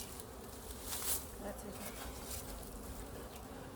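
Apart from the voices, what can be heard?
honeybees buzzing around hives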